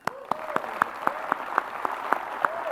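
A conference audience at a closing plenary claps in a steady, even rhythm of sharp, distinct claps, about four per second, with no voices over it.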